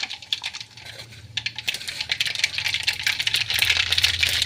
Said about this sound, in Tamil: எண்ணெய் பாருங்கள் காஞ்சிருக்கு. கடுகு போட்டுட்டேன்.